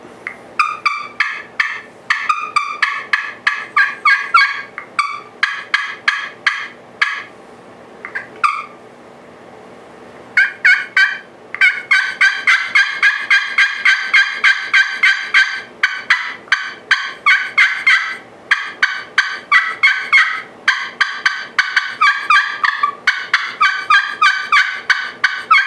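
A pot-style friction turkey call is played hard and close, producing loud, rapid runs of raspy yelps and cutts that imitate a turkey. The runs come in quick rhythmic bursts with a short pause midway.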